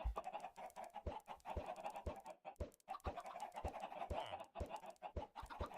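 Chickens in Minecraft clucking in a quick uneven run of short, close calls over faint game sounds, with no talk.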